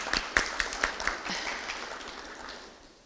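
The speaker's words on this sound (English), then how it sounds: "Let's give them a round of applause." Audience at an MLK breakfast in an event hall applauding committee members, a few distinct nearby claps at the start blending into a soft, distant wash of clapping that gradually fades.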